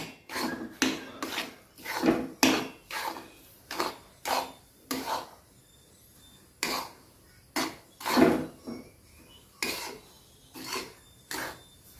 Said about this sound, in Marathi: मी अर्धा रवा आधी भाजते अर्धा नंतर भाजते